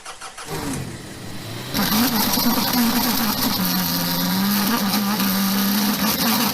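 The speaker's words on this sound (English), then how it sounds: "the exhaust also sounds amazing. Take a listen." A car engine rumbles steadily through its exhaust, starting up and settling into a loud, continuous idle with slight revving.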